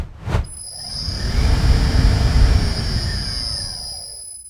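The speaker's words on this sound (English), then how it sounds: "This is a WEG CFW100 inverter drive, and this is a 3-phase electric motor" A 3-phase electric motor driven by a WEG CFW100 inverter drive spins up after a short click, settling into a steady whirring hum with a high, thin electronic whine above it, close and moderately loud.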